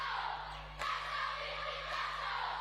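A young, boisterous crowd cheers at Lawaqa Park during a women's rugby match between Tonga and Fiji, a distant, diffuse roar that swells briefly partway through.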